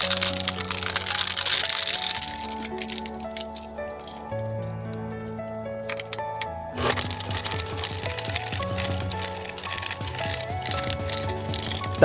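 Shredder blades crunch and crack through hard plastic toys, sharp snapping bursts over a low grinding hum, loud and close.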